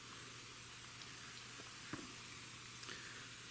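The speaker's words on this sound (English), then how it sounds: "Let me just get my pump, spray, just a little bit on top here" A hand pump spray bottle mists water over compost in a bokashi worm bin, giving a steady faint broadband hiss throughout with a few brief soft clicks of handling, no voices.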